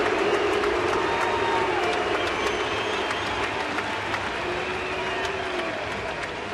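A baseball stadium crowd at a Twins–Royals game roars and cheers steadily after a hit to the right-field corner for a double, a dense, sustained wall of noise with scattered whistles and shouts.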